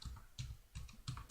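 Computer keyboard keys are pressed for Excel shortcuts, a handful of distinct clicky taps in quick irregular bursts, close but quiet, with no speech.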